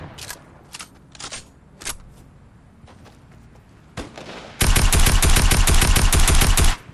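Automatic fire from the epic-rarity tactical assault rifle in the battle-royale game Fortnite: a few scattered single shots, then a loud, sustained rapid burst of about two seconds near the end, with no talk.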